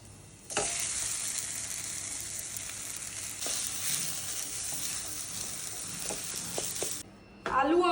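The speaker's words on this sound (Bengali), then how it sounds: "এরপর দিলাম কাসুরি মেথি জেনারেলি আমি দেখলাম কেউ এরকমভাবে ভাজছে না কিন্তু আমি একটু ভেজে নিই" A loud, steady sizzle of dried fenugreek leaves (kasuri methi) frying in a hot pan, with a few clinks of stirring and a brief pause near the end.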